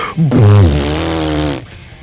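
A voice imitates a loud fart with a single long, buzzing, raspberry-like blast that lasts over a second, loud and close before cutting off.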